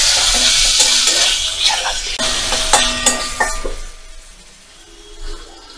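Cubes of paneer hitting hot oil mixed with ginger paste for a white coconut-milk curry, with a loud sizzle and a few pan and utensil clinks at first, then fading to a quieter fry.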